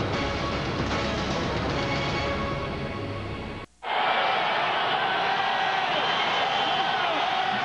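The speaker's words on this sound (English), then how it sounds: "the crowd trying to get the defense jacked up a little bit" A large stadium crowd at a 1996 AFC divisional playoff football game between Jacksonville and Denver roars steadily, a dense sustained din that briefly cuts out near the middle before resuming at full strength.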